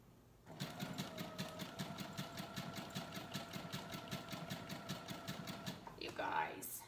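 A sewing machine stitches a buttonhole in a fast, steady rhythmic whir of needle strokes for about six seconds, loud and close, then stops abruptly as a brief voice exclaims.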